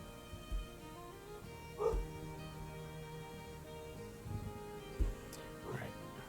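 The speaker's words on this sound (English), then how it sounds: "as dogs bark in the background" Dogs barking in the woods, a few faint scattered barks and yips far off in the background, with quiet voices and low noise in between.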